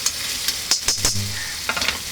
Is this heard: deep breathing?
no